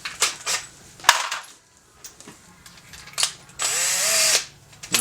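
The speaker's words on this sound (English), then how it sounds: "you can actually just take a little countersink and chuck it up in a drill" A small countersink bit spun in a power drill to remove a primer crimp from brass cases, heard as several short, close whirring bursts of the drill with clinks of metal handling between them.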